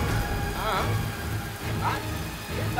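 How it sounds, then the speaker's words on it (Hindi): Rain falls steadily at night on a city street, a dense, loud hiss of drops on surfaces that fills the whole moment, with voices talking over it. "यार, इस बारिश में तो समा बांध दिया है"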